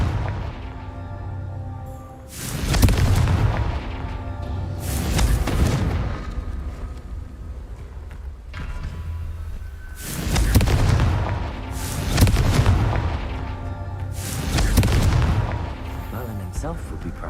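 The Confringo fire spell explodes repeatedly in Hogwarts Legacy, four or five loud booming blasts with roaring, crackling tails spaced a few seconds apart, over low game ambience, and a voice speaks at times.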